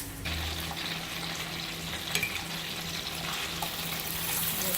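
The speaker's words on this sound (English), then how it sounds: "we are just going to put it on heated pan at the medium heat" A layered paratha sizzles on a heated pan over medium heat, a steady close frying hiss that carries on continuously with a few faint clinks and no speech.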